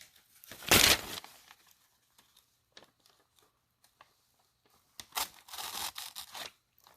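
An MKM Isonzo folding knife with an N690 cobalt steel blade slices through thick paper, giving two sharp rasping tearing strokes separated by quiet moments with small scratchy ticks, close and crisp.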